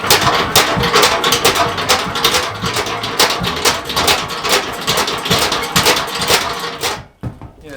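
A car windshield wiper motor runs slowly with its polarity reversed, giving a steady close-up mechanical whir with rapid ticking and clatter that cuts off abruptly just before the end.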